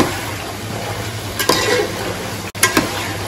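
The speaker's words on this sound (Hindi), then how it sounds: "अब ये मसाले को मैं इसमें अच्छे से भून लूँगी" Ground masala fries in a pan with a constant sizzle, broken by a few quick scraping strokes of a spoon stirring it.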